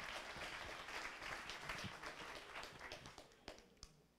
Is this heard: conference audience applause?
yes